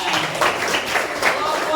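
A primary school class claps briefly in a classroom, a few quick uneven bursts of hands with voices mixed in.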